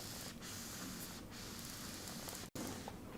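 Electric charge pumped into a homemade capacitor by a Van de Graaff-style setup gives a faint, steady static hiss, like fine spray, broken by one brief gap.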